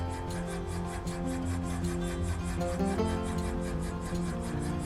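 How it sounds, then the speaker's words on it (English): A continuous rubbing, rasping scratch comes from inside a toilet, with quick even strokes repeating steadily at a moderate level and no voices. "Looks like someone is scratching."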